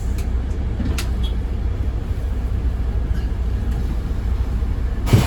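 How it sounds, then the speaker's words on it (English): Steady low engine rumble and road noise inside a moving bus on the 199 Skyline route between Manchester Airport, Stockport and Chapel-en-le-Frith, continuous and fairly loud, with a brief knock near the end. "That bus we got on seems to be really slow"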